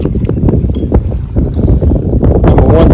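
A restored 1968 Johnson 9.5 HP outboard motor, model MQ-14D, runs on Toledo Bend Lake: a low, steady engine drone mixed with strong wind buffeting on the microphone and water noise.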